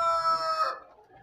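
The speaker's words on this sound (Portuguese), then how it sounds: "Tem galinha aqui da raça Brahma." A single short call from Brahma-breed chickens at a farm, a bright, strained crow-like cry lasting under a second, close and fairly loud, then fading into quiet.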